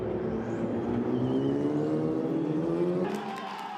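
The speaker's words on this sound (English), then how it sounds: "An AI race at Abu Dhabi. There's no drivers in these cars." Driverless AI race cars at Abu Dhabi, engines droning steadily with a rising pitch, then changing tone near the end as one passes, loud and continuous with no talking.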